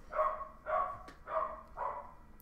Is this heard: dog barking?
yes